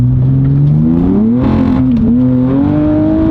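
Strong, close engine pull from a 2023 Nissan Z with bolt-on upgrades making over 500 hp, pitch climbing steadily, then dropping briefly at a gear change around the midpoint before rising again, heard from inside the car on a wet day.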